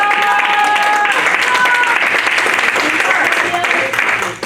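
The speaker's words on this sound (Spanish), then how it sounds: "Démosle un aplauso al Señor por eso." A worship congregation gives sustained applause during a church service, steady dense clapping with voices underneath that tapers off at the end.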